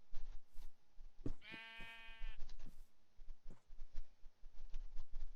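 A sheep in a video game gives one clear drawn-out bleat, close and loud, amid soft clicking and shuffling game sounds before and after.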